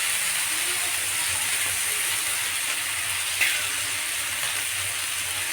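Ginger frying in a pan for a Bengali cabbage dish, a steady, close hiss and sizzle of hot oil with a brief small pop partway through, no talking.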